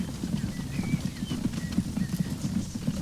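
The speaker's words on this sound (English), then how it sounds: "The clickety-clack of the horses in the cart." Horses pulling a cart in the transport game Transport Fever clip-clop in a steady, continuous trot of hoofbeats, loud and close, with faint birdsong chirping high above throughout.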